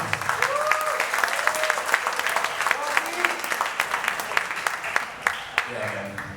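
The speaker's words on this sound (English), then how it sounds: "Round of applause, please." Applause from an audience at a drum clinic in the JB Music store on EDSA, a steady wash of clapping lasting several seconds while a few voices call out over it.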